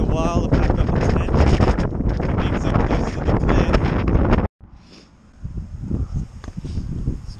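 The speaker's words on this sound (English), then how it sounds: "It's even windier this morning." Strong wind buffeting the microphone outdoors on the open Nullarbor plain in Australia, loud and continuous roaring gusts for several seconds, then dropping abruptly to a quieter, uneven rush of wind.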